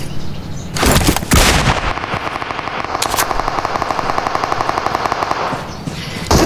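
Automatic gunfire in a first-person shooter video game rattles in loud rapid bursts, with a few heavy shots up front followed by a long sustained stream of fast repeated rounds, close and aggressive.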